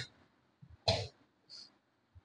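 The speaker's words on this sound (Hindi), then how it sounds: "ये मेरा भाई खांस रहा है क्योंकि उसको भी फीवर हो गया है" A young man with a fever coughs, one sharp cough near the middle followed by a softer throat-clearing sound, with quiet room noise and a faint breath around it.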